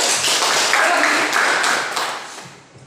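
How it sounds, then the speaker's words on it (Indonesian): Classroom applause from students in a teacher's lesson, a dense broadband patter of many hands clapping steadily for about two seconds, then fading out toward the end. "bagus, tepuk tangan"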